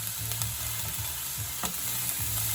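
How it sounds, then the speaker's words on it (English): Sofrito sizzles steadily in a pan, a dense continuous frying hiss with a few scraping stir strokes and light clatters, close and alone with no talk. "Lovely sizzle going on there"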